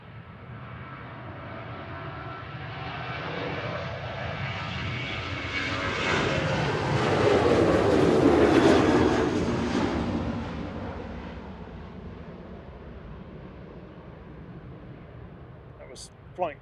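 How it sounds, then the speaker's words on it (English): A Ryanair Boeing 737-800 jet at Manchester Airport makes a loud roar that builds to a peak as it passes nearby, then fades to a distant rumble. A voice talks faintly underneath. "That was flight 3836, operated by EIDWF, a 16-year-old 737-800."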